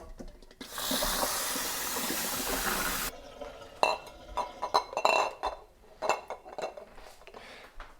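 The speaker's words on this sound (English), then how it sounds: "Let's get them off the heat and then just run through some cold water." Boiled eggs in a pan rinsed under a cold running kitchen tap: a steady hiss of flowing water for a few seconds, then scattered clinks and knocks of eggs and the pan.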